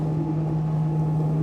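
Candela electric hydrofoil boat cutting through waves at sea, a steady droning hum with constant wind and water rush, close and continuous with no talk.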